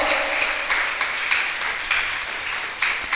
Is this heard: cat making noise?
no